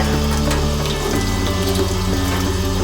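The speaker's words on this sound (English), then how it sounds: "the water that falls over my hands right there, I just use that to rinse" Tap water runs loudly and steadily over makeup brushes being rinsed by hand in a sink, a dense close splash with a low mechanical hum underneath and no talking.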